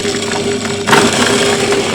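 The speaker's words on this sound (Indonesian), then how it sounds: "Nah, mesin sudah hidup tetapi suaranya halus sekali." A chopper machine runs while shredding cassava stems into chicken feed, giving a steady motor hum with a sudden burst of rougher grinding partway through, all close and fairly loud.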